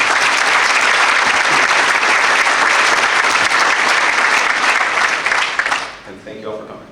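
Loud, dense applause from an audience at a police award ceremony, sustained for several seconds before tapering off, with a voice starting to speak at the end.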